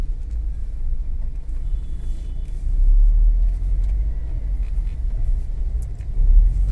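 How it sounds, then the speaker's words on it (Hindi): A Maruti Suzuki Swift with a faulty speedometer and odometer drives along a road at moderate speed, heard as a steady, loud low rumble of road and engine noise from inside the car. "देखिए अभी हमारी गाड़ी 40 की स्पीड में चल रही है"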